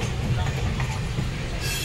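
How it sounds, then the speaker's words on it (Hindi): Local train rolling past close by on the Kolkata–Agra route, a steady low rumble with faint rail clatter that holds loud and continuous throughout. "ये जस्ट देखिए मेरे पीछे लोकल ट्रेन यहाँ से जा रही है"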